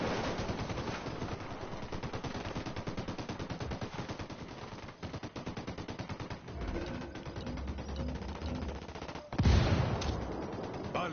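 Rapid bursts of automatic gunfire rattle through a Ghost Recon firefight, dense and loud for most of the stretch, with a brief pause and a heavier blast near the end.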